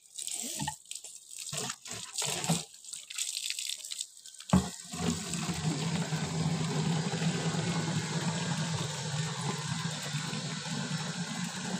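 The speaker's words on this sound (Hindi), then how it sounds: "बहुत पानी आ रहा है अभी नल पे।" Water gushing from a village tap, a steady broadband rush that starts after a few seconds of intermittent splashes and then runs continuously and fairly loud.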